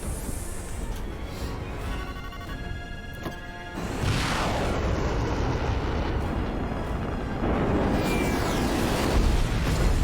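A missile strike explodes in a sci-fi TV action scene, a sustained loud roaring blast with rumbling debris that swells and stays dense throughout, with no talk over it.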